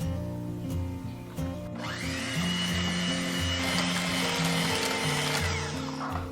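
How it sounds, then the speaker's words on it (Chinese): An electric mixer beats egg yolk into butter-rich pineapple cake dough, a steady whirring drone that swells into a louder, gritty churn after about two seconds and keeps going to the end. "每加1次蛋黄液一定要给它搅打均匀。"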